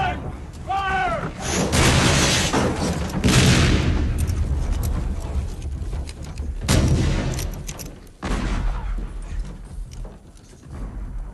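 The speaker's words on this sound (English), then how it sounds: "Two guns! Fire! Three guns! Fire!" A ship's cannons fire in deep, rumbling booms amid shouted orders and continuous commotion, with several loud blasts spread across the scene and voices heard throughout.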